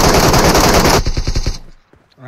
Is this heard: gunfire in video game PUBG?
yes